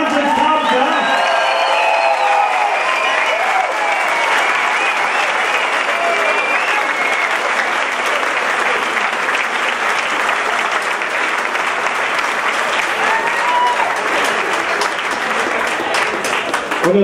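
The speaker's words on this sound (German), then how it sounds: "Gebt dem Kämpfer mal einen fetten Applaus für diesen Wahnsinnskampf." Loud, sustained crowd applause and cheering for two fighters after a bout at a combat sports event, filling the whole stretch while an announcer's voice carries over it at times.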